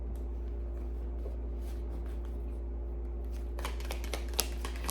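Tarot cards being shuffled during a reading, giving a soft papery riffle and brushing that sharpens into louder crisp card snaps near the end, over a steady low hum.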